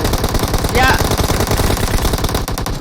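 Rapid automatic gunfire in the battle royale game PUBG, a dense continuous burst of loud shots running through the whole moment, with voices talking over it.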